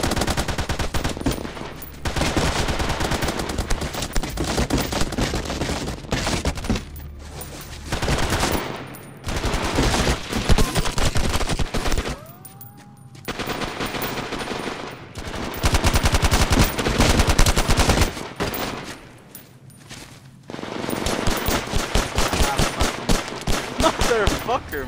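Dense machine-gun and rifle fire from the SOCOM shooter game rattles in long bursts with short quiet gaps, loud and close, with occasional voices underneath.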